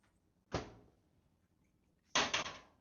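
Cabinet doors in a camper open or close twice, a short single knock followed after a pause by a louder clatter of a couple of quick bumps, close by in an otherwise quiet room.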